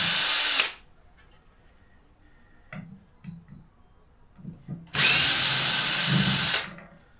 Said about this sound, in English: Okay, drill time.